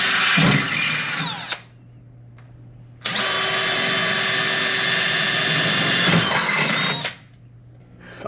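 Loud whining power drill boring through the sheet metal of a Harbor Freight US General tool cart, two sustained bursts separated by a pause, with no talking.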